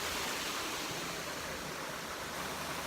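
Scaleber Force waterfall is running high with lots of water, giving a loud, steady, close rushing roar that never lets up, with no voices.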